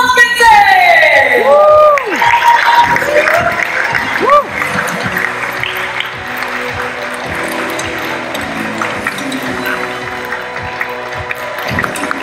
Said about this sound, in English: please give a warm applause and welcome to